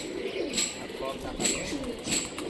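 Soft, repeated cooing from local Rajshahi racing pigeons rises and falls in gentle pulses, partly under nearby voices and outdoor noise.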